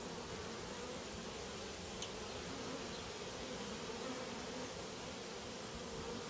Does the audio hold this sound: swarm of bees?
yes